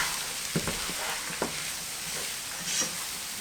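Riced cauliflower and vegetables sizzle steadily in a hot pan while a utensil stirs and scrapes with a few soft knocks, close and without talking.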